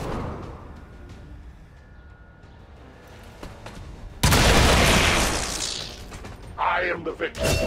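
A soldier fires a weapon in XCOM 2, a single loud blast that hits suddenly and rings out, followed by a second burst of crackling impact; a voice talks quietly earlier on.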